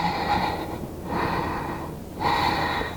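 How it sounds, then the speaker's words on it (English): Deep, slow breaths during yoga hip circles: a long audible inhale, a pause, then another full breath cycle, close and breathy with no speech over it. "Inhale and exhale."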